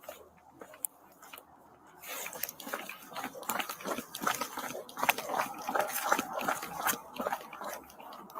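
A dog nearby sniffs, pants and snuffles in close, irregular bursts, growing busier and louder partway through.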